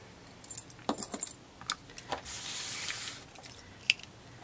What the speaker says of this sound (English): pop off the quarter inch seam allowance disc